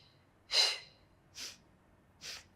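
Three sharp breaths pushed out during a Pilates lower body workout, close and fairly loud. The first is the strongest and the next two are softer, spaced about a second apart.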